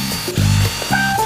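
A power screwdriver backs screws out of the rear of a gaming PC case, giving a few short whirring bursts with brief pauses between them, close and fairly loud, with no talking.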